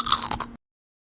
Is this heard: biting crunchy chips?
yes